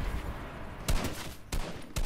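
Sharp gunshots from a bot firing at the player in Fortnite come in three or four irregularly spaced cracks over about two seconds, fairly close and loud against a steady game backdrop.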